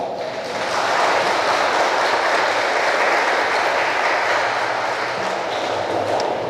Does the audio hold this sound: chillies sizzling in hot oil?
no